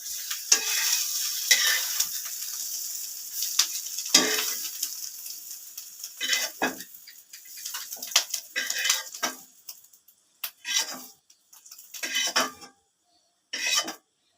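Egg fried in a pan until browned and crisp, a steady close sizzle with stirring and spatula scrapes that breaks into sputtering bursts and gaps toward the end.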